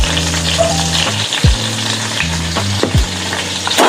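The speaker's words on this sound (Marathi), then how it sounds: "कमी गॅसवरच मिरच्या होऊ द्यायच्या." Green chillies frying in a pan over a low flame, a close crackling sizzle with a few sharp clinks and scrapes from turning them, over a steady low hum, with no talking.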